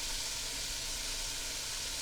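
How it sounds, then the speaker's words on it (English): Beef searing in a hot pot for old-fashioned stew gives a steady, loud, close sizzle with a constant hiss and no talk. "And once you have it in there, let it keep sizzling."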